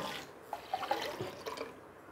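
Water poured into a pot while cooking chicken biryani rice, a soft close trickle with a few small splashes and drips, fairly quiet, ending in silence.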